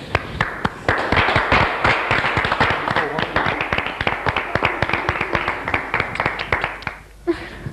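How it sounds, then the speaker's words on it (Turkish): Housemates on a reality show applaud as one of them leaves the house, with brisk, close, continuous clapping and a few louder individual claps, ending in a brief lull. "alkışlarla evden uğurlanır"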